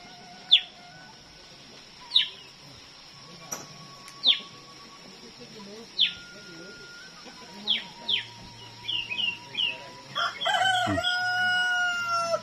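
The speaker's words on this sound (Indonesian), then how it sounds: "Ada burungnya bersuara" Several bird calls ring out at intervals, sharp chirps and crowing-like cries over a quiet background, growing busier and more overlapping toward the end.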